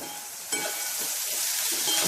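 Onion with turmeric sautéing in a pan, a steady soft sizzle and crackle throughout with a few spoon stirs, getting slightly louder toward the end.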